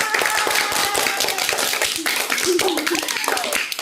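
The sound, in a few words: children doing a rhythmic spirit clap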